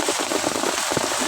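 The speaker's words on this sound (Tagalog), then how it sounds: "Malakas ang ulan." Heavy rain pours onto an umbrella overhead in a stormy outdoor setting, a dense, loud, steady drumming patter very close with scattered stronger drops and no talking.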